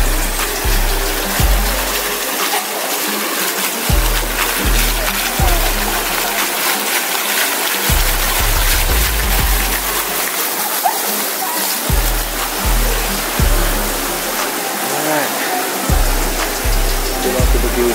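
An outdoor water fountain at Genting Highlands splashes continuously in a loud, steady rush, with a low rhythmic thumping running underneath.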